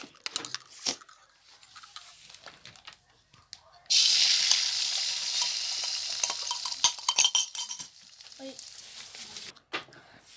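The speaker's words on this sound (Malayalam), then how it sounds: "ഇപ്പോൾ നമ്മൾ മുട്ട അടിച്ച് കഴിഞ്ഞിരിക്കുന്നു. ഇനി നമുക്ക് പൊരിക്കാം." A beaten egg omelette seasoned with salt hits a hot pan and starts frying with a sudden loud sizzle about midway, after quiet scraping and stirring. A steady hiss then fades under occasional utensil clinks.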